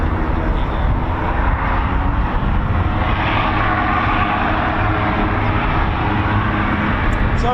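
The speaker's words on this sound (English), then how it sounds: "So we got a Beechcraft Shadow R1, again part of the I-Star Force." Steady, loud roar of a Beechcraft Shadow R1 surveillance aircraft's engines at RAF Waddington, continuous and unbroken with no talk.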